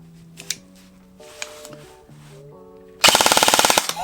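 Specna Arms SA-H06 airsoft gun firing on semi-auto, a loud burst of rapid, sharp slappy shots in the final second after quieter ambient tones and faint clicks.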